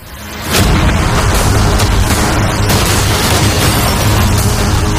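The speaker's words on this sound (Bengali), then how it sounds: "দেখা যাক তুমি আগের ফেজ থেকে শিক্ষা নিয়েছো নাকি ক্যানন বলগুলো তোমার ইয়টকে হিট করবে।" Cannons firing cannonballs at a yacht in a video game, a dense, continuous barrage of loud booms and bursts rolling together without pause, with no talk over it.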